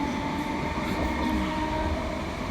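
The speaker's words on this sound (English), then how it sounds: "as the train departed into Cambuslang" Electric ScotRail 320 EMU passenger train pulling away from a station toward Cambuslang, a steady close rumble of wheels and motors with a faint whine, continuous throughout with no talk.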